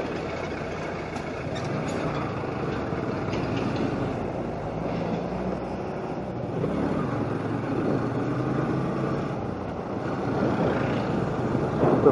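A TVS Apache RTR 160 ABS, a 160 cc motorcycle, runs along the road at a steady pace, producing a continuous loud roar of engine and wind rush with no voices.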